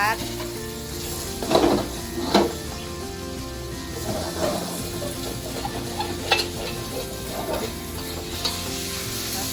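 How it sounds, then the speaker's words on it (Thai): Pork sizzling and frying in a hot pan, stirred with several scraping, clattering strokes over a continuous sizzle, with a person talking softly in the background. "ใส่หมูลงไปจ้าใส่หมูลงไป"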